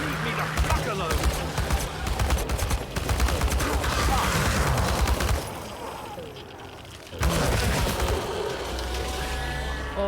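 Heavy automatic gunfire in the Chernobylite video game, loud dense bursts with booming impacts, pausing briefly midway before resuming; a voice is heard talking over the shooting.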